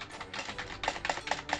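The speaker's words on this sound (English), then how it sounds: "You guys could hear my keyboard like." Computer keyboard typing, a run of quick clicky keystrokes in an uneven rhythm, close and fairly quiet, with no voices.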